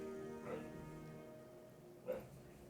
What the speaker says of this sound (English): I think I can hear my dogs